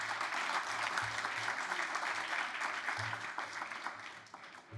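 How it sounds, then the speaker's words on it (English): Plenary session audience at a European science conference giving a round of applause, dense steady clapping that fills the room and tapers slightly toward the end, with faint low rumbles beneath. "you can give a hand of applause, please."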